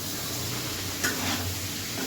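Okra frying in a pan with a little salt and turmeric, stirred through a steady close sizzle, with a brief louder scrape about midway.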